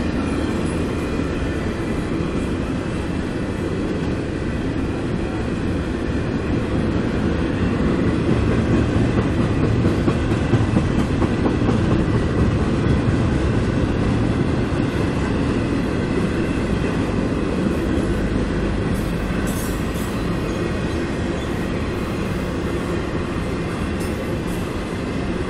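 CSX freight train carrying trailers passing by at Folkston: a steady, loud, continuous roar of rolling cars and wheels on rails throughout, with faint clicking and occasional high wheel squeal.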